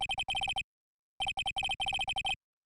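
A cell phone rings in the Phoenix Wright: Ace Attorney Trilogy game as a rapid electronic chirping ringtone in two clustered bursts, with a pause between them, loud and clear, with no talking.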